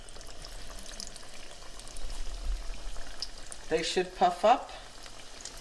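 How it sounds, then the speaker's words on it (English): Pieces of frittelle, a sweet fried dough, are lowered into hot oil in a pan and fry, with a steady sizzle that swells into a few louder bursts near the end while a voice speaks briefly. "We're going to carefully put them in the hot oil."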